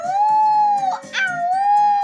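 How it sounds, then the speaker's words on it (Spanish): Wolves howl in long, sustained wavering tones, one cry bending downward and another rising again, loud and close with overlapping voices and no speech. "escuchaba el sonido de los lobos."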